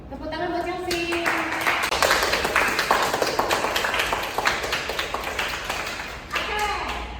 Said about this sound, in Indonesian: Beri tepuk tangan dulu dong untuk memotivasi Renhat.